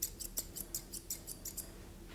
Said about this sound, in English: putting my scissors on a nice angle and scissoring down towards our wither area